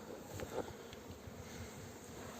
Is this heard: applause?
no